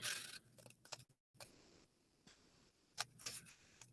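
Scissors snipping through folded paper for a simple kindergarten art project, giving a series of short, close, crisp cuts with brief pauses between them and no talk.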